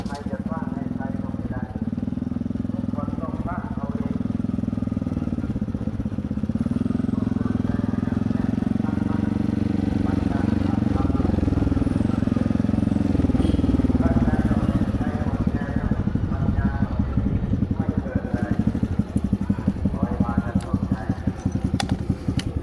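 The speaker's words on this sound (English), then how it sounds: "You cannot beat an afternoon just driving around in Thailand, especially on a motorcycle." A motorcycle engine drones steadily throughout at close range in Chiang Khan, Thailand, rising and falling slightly as it rides along, with a voice talking over the engine noise.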